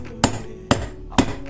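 Three sharp hammer blows on a socket, about half a second apart, driving a steering bearing into place on a BMW E46 320d; loud, close metallic strikes with short ringing decay and no talk.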